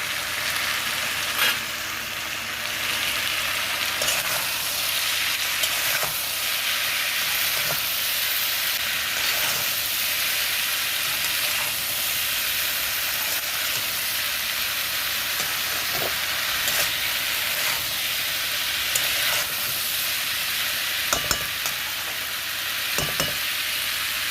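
Spring onion stalks and green chillies fry in a pan on a gas stove, a loud, steady sizzle running unbroken for the whole stretch, with occasional soft clicks and scrapes of stirring.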